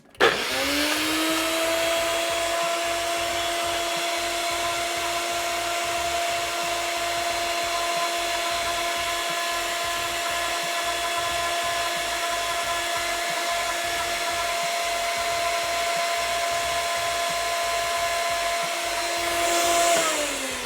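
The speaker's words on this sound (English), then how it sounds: "The blender is just a little bit empty, so it's struggling to get through all of it." A blender whirs steadily while blending a garlic and lime juice paste, a loud continuous motor drone with a bright high whine that holds for about twenty seconds, slightly strained as the nearly empty jar struggles, with no talking.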